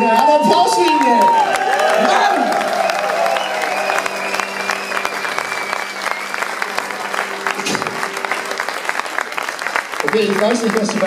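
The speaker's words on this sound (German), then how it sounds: "Applaus für ihn" A rock concert crowd in Hamburg applauds a band member, clapping and cheering that runs throughout while sustained guitar tones ring and voices come through over the crowd.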